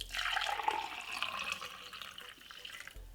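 Cucumber juice poured into a glass, a soft continuous liquid splash and trickle lasting a few seconds, faint and close, with no talking.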